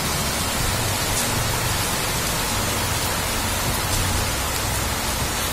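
Steady rain falls and splashes on surfaces outdoors, a dense, even hiss that stays loud and constant throughout with no talking.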